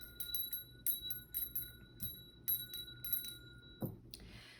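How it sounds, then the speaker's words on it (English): A small bell rings repeatedly in quick, light strikes, leaving a thin sustained high ringing tone, faint and close in a quiet room with no speech. "I'm going to ring the bell."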